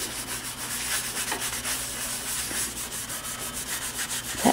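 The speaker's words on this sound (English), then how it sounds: "I'm going to wrap it around my finger, and then I'm just going to rub, and you can push as hard as you want with this" Tissue wrapped around a fingertip rubs over pencil shading on drawing paper, giving a steady close-up scratchy swishing with quick back-and-forth strokes and no talking.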